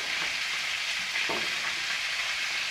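Chicken pieces sizzle in a pot with leftover drippings, making a loud, continuous frying hiss with a brief stirring scrape partway through; no voices.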